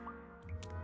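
Water flows and plops in a Lego Harry Potter video game, with short drips and squishy liquid splashes over a steady low game hum, close and fairly quiet.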